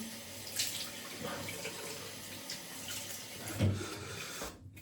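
Hot water runs steadily from a tap into a sink before a wet shave with a Dovo Primo 2 straight razor and Semogue brush, a soft continuous flow with occasional splashes, fairly quiet and with no voices.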